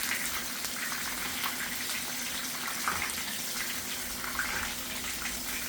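Veal for pizzaiola sizzles in hot oil, a steady broadband hiss with bursts of crackling and spattering that holds level throughout, close and moderately loud with no talking.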